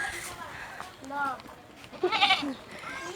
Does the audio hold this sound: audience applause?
no